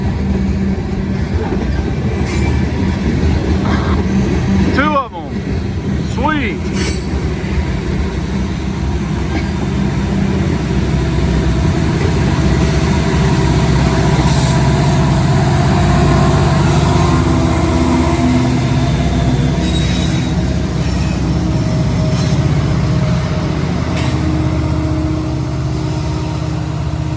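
A loaded freight train of covered hoppers carrying potash rolls past close by, with a loud continuous rumble, wheel clatter and screeching steel that carry on without letup.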